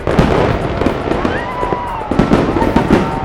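Fireworks burst repeatedly over a crowded outdoor walkway near the KKK Monument, with loud booms and crackles coming in quick, uneven succession over steady crowd noise and faint voices.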